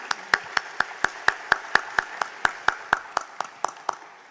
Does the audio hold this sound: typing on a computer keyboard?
no